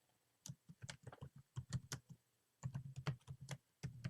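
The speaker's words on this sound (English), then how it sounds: "Hold on, typing my tweet." Quick bursts of keystrokes on a computer keyboard while a tweet is typed, close and crisp, in two clustered runs separated by a short pause, with no voices.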